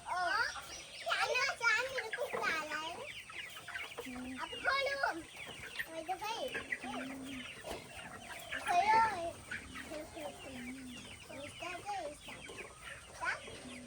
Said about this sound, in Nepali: तिमीहरू कुखुरा हो